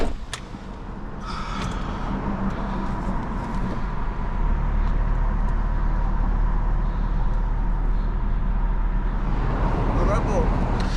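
A Mercedes G-Wagon pulls away, its engine rumble building and holding loud and close, with people talking and voices breaking in over the steady drive noise.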